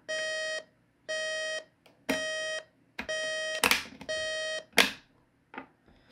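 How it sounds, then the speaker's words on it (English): Repeated electronic alarm beeps from an old GE clock radio in bursts of about half a second, loud and close, ending in a few clattering knocks as it is silenced. "Let me cut that alarm"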